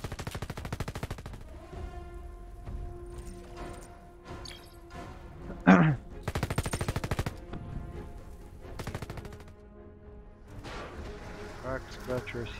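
Gunfire in the video game Red Solstice 2, played with a shotgun-armed heavy class, comes as scattered sharp bursts with one loud crack standing out, while someone talks over much of it.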